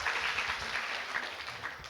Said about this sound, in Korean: 세션 3을 진행해 주신 사회자분하고 발제자분들께 다시 한번 박수 부탁드리겠습니다